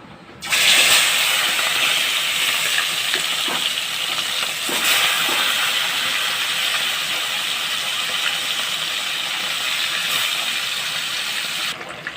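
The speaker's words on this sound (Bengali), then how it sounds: "মাছটাকে ভেজে নেব" Pomfret fish frying in hot oil in a pan, a loud continuous sizzle and hiss that starts abruptly and holds steady, with occasional crackles and pops, ending suddenly.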